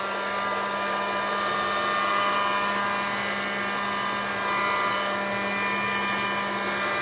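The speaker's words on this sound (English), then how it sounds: "now just hear a little bit of noise of my heat gun" A heat gun used on a mixed-media seashell craft canvas blows a steady, close whooshing roar with a constant electric hum, running alone at an even level throughout.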